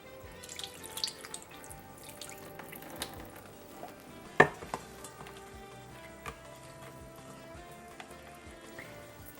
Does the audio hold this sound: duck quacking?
no